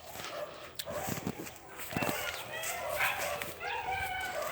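Farm dogs bark and yip in short bursts at a moderate distance, over steady outdoor background noise, with voices talking now and then.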